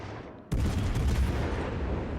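Naval gunfire in World of Warships: Legends, a sudden loud broadband blast cutting in after a quieter stretch, then sustained rumbling gunfire and booming that stays loud to the end.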